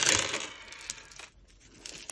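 Loose glass beads from a broken vintage jewellery lot scatter across a hard surface, a bright brief clatter at first that thins into scattered small ticks and rattles over about two seconds.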